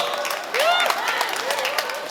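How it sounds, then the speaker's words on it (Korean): A crowd at a middle school community festival applauds as the student council president is called up, with steady broad clapping and some cheering, plus a couple of faint whistle-like tones over the noise. "박수 부탁드립니다."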